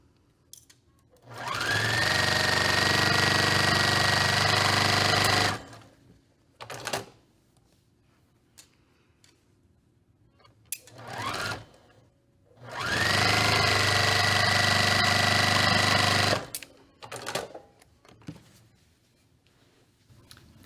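A sewing machine stitches quilt pieces in two separate runs of about four seconds each, with a clear motor whine during each run. Quiet gaps between the runs carry soft clicks and fabric-handling sounds.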